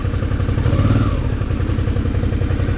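A big, heavy Suzuki V-Strom motorcycle on a muddy road strewn with wet leaves, its engine chugging loud and close with a steady low throb and rattling clatter throughout, no talk.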